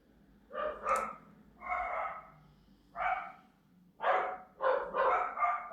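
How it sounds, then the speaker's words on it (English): Several dogs bark in a series of separate bursts, moderately distant, with short pauses between volleys and no talking over them. "Oh, dogs must be seeing something. They're going crazy."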